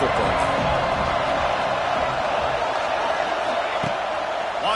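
Home crowd roaring loudly and continuously in the NCAA 26 college football video game, a dense, steady wall of stadium noise with no breaks.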